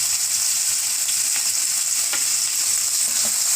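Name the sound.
finely chopped chicken frying in hot oil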